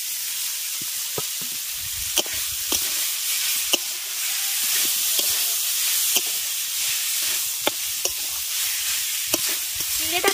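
Soaked, squeezed flattened rice being stirred and fried with spices in a pan for rice-flake cutlets, giving a steady close sizzle with scraping spatula strokes and clacks scattered throughout, no voices.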